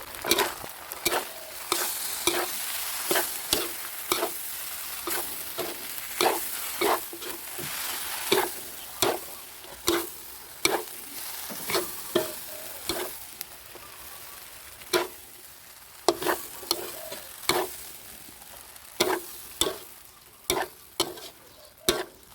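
Wide rice noodles stir-fried with vegetables, Chinese celery and suki dipping sauce in a pan, an ongoing sizzle punctuated by dozens of sharp, regular scraping and tossing strokes, close and without talk.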